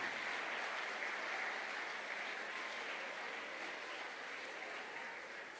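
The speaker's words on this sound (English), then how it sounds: "From the prolonged clap," Prolonged audience clapping at a book launch, a soft, even wash of many hands that stays steady and slowly fades, heard from a distance with no talk over it.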